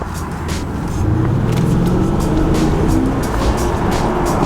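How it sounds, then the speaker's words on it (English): A 2008 Mercedes-Benz CLS 550 V8 accelerating, heard from inside through an open window: a steady, loud engine drone with a rising tone as it gains speed. "roll down this window so y'all can hear the engine"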